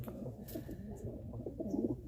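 Soft, low pigeon cooing repeats in short throaty bursts, fairly close and a little muffled.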